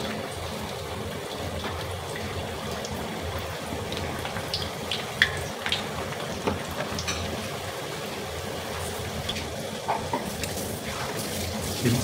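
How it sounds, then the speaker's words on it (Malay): Extra-large curry puffs half-fry in hot oil, giving a steady sizzling hiss dotted with sharp little pops and crackles. "Kita nak goreng curry puff kita untuk buat curry puff segera lah"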